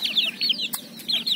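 A rooster clucks in quick, bright bursts nearby, a few short calls repeating over a quiet background.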